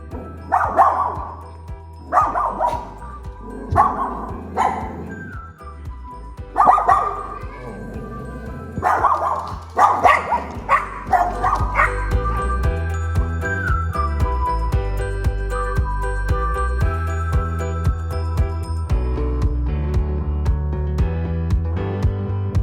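Several dogs at a Florida home bark in loud, repeated bursts and yips, close by, for the first half, then give way to a steady tonal background with scattered faint sounds.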